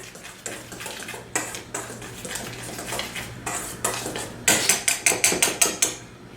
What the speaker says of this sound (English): When you have all the ingredients in the flour, give it a nice whisk.